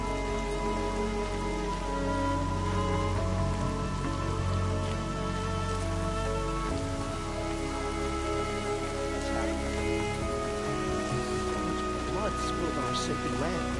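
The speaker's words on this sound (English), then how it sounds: "More rain." Steady rain falls throughout in a video game, a dense, even hiss of drops with faint tonal ambience underneath, holding at a constant level for the whole stretch.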